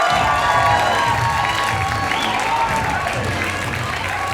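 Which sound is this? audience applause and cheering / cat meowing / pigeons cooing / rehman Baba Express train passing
audience applause and cheering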